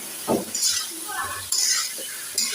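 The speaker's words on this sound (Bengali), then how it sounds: "তরকারিটাকে সুন্দর করে সব ধরনের মশলা কষিয়ে নিয়ে তরকারিটাকে কষিয়ে কষিয়ে রান্না করব ইলিশ মাছ দিয়ে তরকারি" Hilsa fish curry cooking with spices in a pan: a spoon scrapes and clinks against the pot in a few short strokes over a soft sizzle, close and moderately loud.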